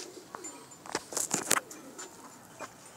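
Pigeons from a breeding pair, a Firozpuri male and a Teddy female, give a few soft coos and short calls in quick bursts, fairly close and moderately loud, with no talking over them.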